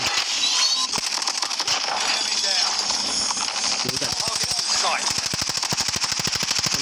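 Rapid automatic bursts from an AK117 with the Lava Remix skin in a video game, loud crackling volleys in several long strings, with music and a voice in the background.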